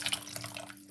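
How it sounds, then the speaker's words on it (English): Tap water runs and splashes into a cooking pot while a winter vegetable soup is being made. It is a brief, close, steady rush of water with no voices. "We're going to add some more water to the pot."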